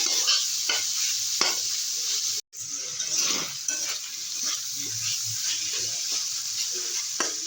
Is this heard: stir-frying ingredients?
yes